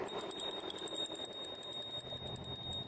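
The handlebar bell on an e-bike rings near a tunnel with a steady, bright, continuous trill that is close and clear and lasts about three seconds.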